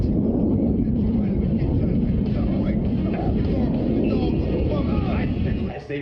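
Blue Angels jet aircraft roaring through an airshow demonstration at NAF El Centro, a loud, continuous low rumble of jet engines filling the whole stretch, with a faint announcer voice underneath, easing slightly at the very end.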